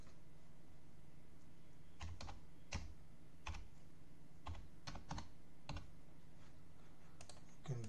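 Registration details are typed on a computer keyboard, producing sparse, quiet key taps at irregular intervals over a faint steady background hum, with no speech.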